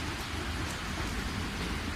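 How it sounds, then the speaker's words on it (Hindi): Heavy rain pouring down during a thunderstorm, a dense, steady roar of drops hitting surfaces with low rumbling underneath, loud and continuous without any voices. "आज तो बहुत बारिश हो रही है। बहुत आंधी तूफान आ रहा है।"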